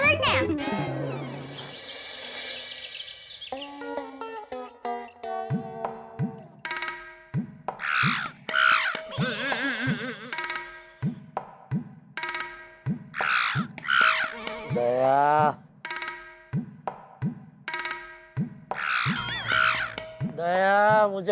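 A woman imitates a crow's cawing, repeating harsh caw-like calls in a fast rhythmic series, loud and close, with someone speaking at the start.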